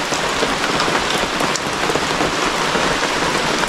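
Steady rain falls hard and close on a farm with a fruit crop, its dense even hiss of drops holding loud for the whole stretch with no voices.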